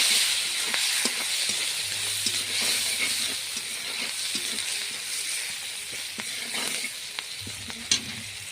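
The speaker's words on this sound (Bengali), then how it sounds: "রান্নার মধ্যে যতটা লবণ দেব ঠিক পরিমাণ মতো অতটা লবণ পেঁয়াজের মধ্যেই দিয়ে দেবো এবার পেঁয়াজগুলো ভেজে নেব" Salted onions fry in a pan with a steady, close, loud sizzle, broken by occasional scraping and clatter from stirring.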